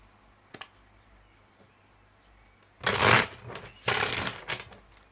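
Tarot cards being shuffled close by, in two quick riffling bursts of papery flutter after a mostly quiet start.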